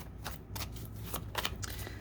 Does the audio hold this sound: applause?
no